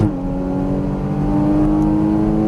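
A Porsche Cayman GTS engine on a race track holds a loud, steady, droning note right after an upshift, close and continuous with no talking.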